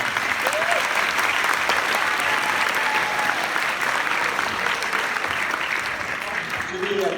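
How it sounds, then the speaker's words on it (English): An audience applauds a caricature artist at a live drawing show: dense, sustained clapping from a crowd, steady and close for several seconds, with a faint voice briefly under it. "So ladies and gentlemen, a round of applause for Wing Hong."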